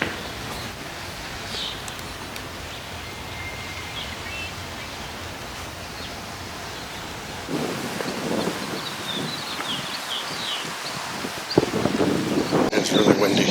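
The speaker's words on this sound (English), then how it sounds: "It's really windy." Steady wind roars and buffets the microphone at Hollywood Forever Cemetery, growing stronger and gustier in the second half, with faint bird chirps in the background.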